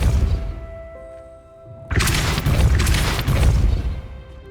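A Depulso spell in Hogwarts Legacy hits with a sudden loud crash-like boom followed by a few seconds of dense rumbling debris noise, after a quieter stretch of game tones and ambience.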